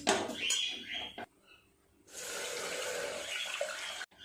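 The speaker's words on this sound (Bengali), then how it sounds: "আরও একটু জল দিয়ে দিলাম" Water poured into dal in a pressure cooker, in two streams: a short splashing pour, a brief pause, then a longer steady pour that stops abruptly, close and clear.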